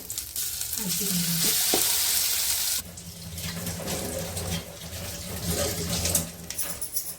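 Loud, steady sizzling of spices tempering in hot oil for coriander chutney, a dense crackling hiss that continues throughout with occasional stirring clinks.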